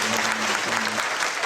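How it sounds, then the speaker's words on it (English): High school crowd at a senior all-nighter hypnosis show bursting into a big round of applause, loud dense clapping throughout with a low steady hum underneath. "big round of applause"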